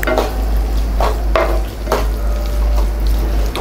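Tomato rice masala sautéing in oil in a pan, with steady sizzling and frying hiss broken by a few louder scrapes and stirs of a utensil, close and alone without talk.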